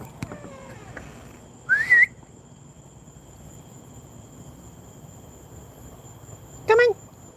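Two sharp rising whistles from a person calling a dog outdoors, each lasting about a third of a second and spaced several seconds apart, over faint insect chirping and quiet background noise.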